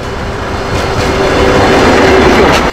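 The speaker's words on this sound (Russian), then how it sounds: "это обычный поезд" A video-game train rolls past steadily, a continuous rumbling roar with a faint metallic whine, growing slightly louder before cutting off abruptly.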